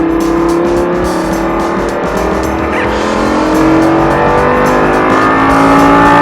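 A Lamborghini accelerating hard on a race track, its engine roaring loud and steady throughout with rising pitch and some tire noise, heard from inside the car.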